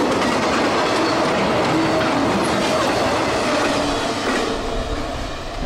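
The tail end of CSX freight train Q158, carrying trailers and well cars, rolls past nearby, a steady loud rumble with clickety-clack from the wheels that eases off toward the end.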